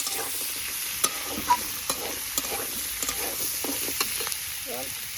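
Ginger paste being stirred into a snail masala frying in a pan, a soft steady sizzle with repeated light scrapes and taps of a spoon at an uneven pace, fairly quiet.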